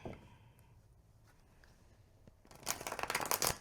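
Quiet handling at first, then a quick fluttering burst of 330 GSM tarot cards being shuffled close up, lasting about a second.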